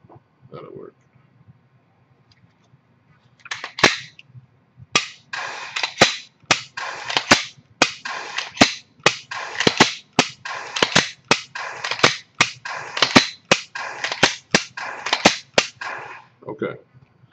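Shots fired at an iTarget Pro training target: roughly a dozen sharp, close cracks in quick uneven succession, with someone talking at the start and end.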